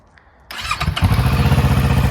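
A motorcycle engine cranks and catches, then settles into a loud, steady, pulsing idle close by, with no talk over it.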